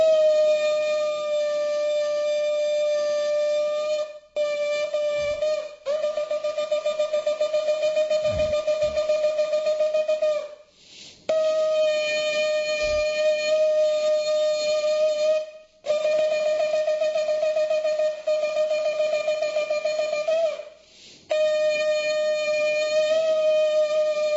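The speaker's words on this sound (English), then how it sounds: "This is the sound of the shofar" A shofar, a ram's horn, sounds long, piercing blasts one after another, each held steady with a brassy, slightly wavering tone and short pauses between.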